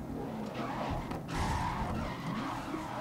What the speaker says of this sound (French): Crissement des plus absolument insupportable.